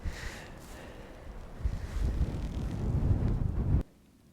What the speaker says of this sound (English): That wind is really strong.